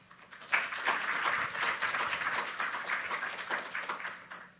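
An audience at a university colloquium applauds steadily for several seconds, many hands clapping together at moderate distance before the sound starts to thin out.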